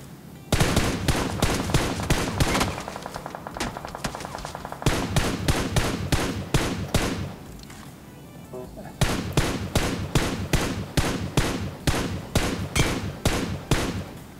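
Rapid bursts of automatic gunfire in the mobile game BGMI, loud repeated shots in fast rhythmic volleys separated by short pauses, with a voice talking faintly beneath.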